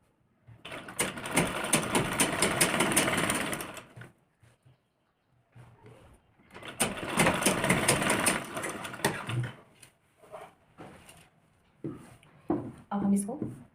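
A sewing machine stitches a lehenga blouse in two long whirring runs of several seconds each, separated by pauses. Someone talks in the gaps and briefly over the machine, and there are shorter bursts near the end.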